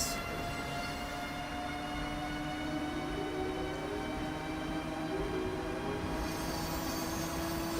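Siemens AC-64 locomotive horn in the Train Sim Classic video game, a sustained multi-tone blast held for several seconds over steady rumbling engine and rail noise, loud and close with no talking.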